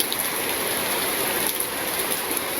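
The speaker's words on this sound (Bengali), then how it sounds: "হাই রে হাই বৃষ্টি রে, বৃষ্টি আর থামার নাম নেই" Heavy rain falls steadily on a village home during the monsoon, a dense continuous hiss and patter throughout with no one talking.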